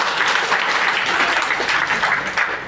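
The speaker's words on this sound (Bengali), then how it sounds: "তার জন্য একটা করতালি দিই" A room of people at a life insurance company gathering claps together for the company's top branch manager, producing a dense, steady burst of applause that lasts a few seconds.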